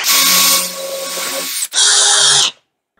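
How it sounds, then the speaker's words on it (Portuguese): A power drill with its bit bores a hole through a workpiece while making a homemade clamp, whining loudly and steadily for about a second and a half, pausing briefly, then running again before stopping. "E aí eu vou usar esse centro como referência para fazer o furo e transpassar."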